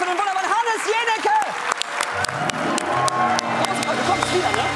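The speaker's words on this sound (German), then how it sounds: "Ein ganz großer Applaus für den wunderbaren Hannes Jenicke!" Talk show studio audience applauding a guest, a dense, sustained wash of clapping from a crowd with a host's voice riding over it at the start, steady and loud throughout.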